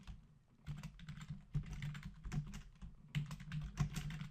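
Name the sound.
typing on a computer keyboard into an Excel cell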